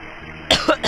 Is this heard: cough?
yes